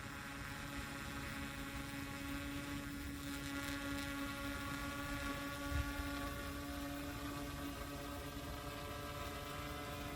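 A V Copter Falcon drone in flight, its motors giving a steady, even whirring hum with a tonal whine that holds throughout, fairly close and alone with no talking.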